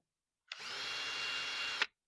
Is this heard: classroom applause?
no